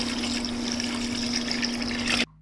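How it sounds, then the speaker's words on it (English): Water poured steadily into a pot of Zimbabwean beef stew with beef and thyme, a continuous close trickle and splash lasting about two seconds before stopping abruptly, with no talking. "And then add our water."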